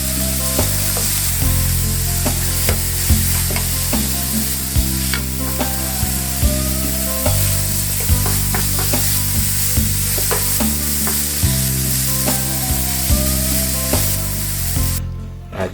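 Steak and tomatoes frying together in a hot pan aboard a boat, a continuous sizzle with scattered crackles and spatters beneath steady music that runs throughout.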